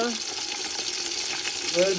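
Hot oil sizzles and crackles steadily in a large saucepan, a close, busy frying hiss with faint clinks near the end.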